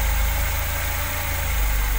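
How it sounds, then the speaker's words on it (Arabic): A car engine idling with an uneven exhaust note from a poorly tuned fuel-air mixture, a loud steady low rumble throughout with no voices. "حتى نغمة السلانسية مش متزنة"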